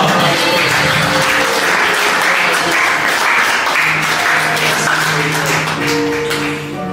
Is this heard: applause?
yes